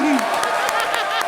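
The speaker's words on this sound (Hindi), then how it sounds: "पहले उनके लिए जोरदार तालियां बजाओ।" Comedy show studio audience clapping in a short, steady round, with a voice speaking over the top at the start.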